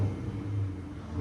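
A BMW V10 engine running with a close, steady low rumble that rises slightly at the end of the brief burst.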